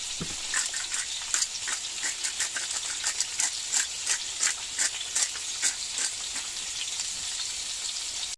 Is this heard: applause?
no